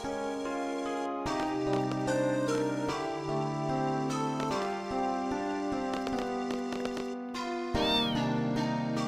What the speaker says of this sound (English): Squall will think that he's seeing Rain, so walk towards her. And it'll be a cat.